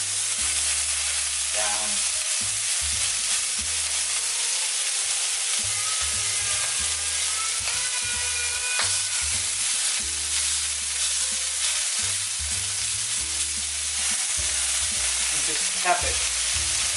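A spicy beef patty fries in an olive-oiled pan, with a steady broadband sizzle running throughout, close and continuous, while a person speaks briefly over it.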